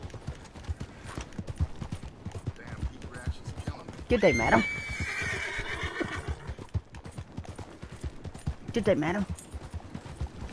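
Horses neigh and whinny with clip-clop hooves in a PS4 game, two loud whinnies standing out over galloping hoofbeats while a character voice speaks a greeting.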